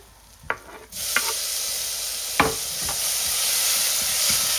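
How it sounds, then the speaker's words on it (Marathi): Tomatoes tipped into hot oil with golden garlic and asafoetida burst into a loud sudden sizzle after a few knocks, then a steady hiss continues with occasional spoon taps; no one speaks. "आता मी टाकेल टमाटर."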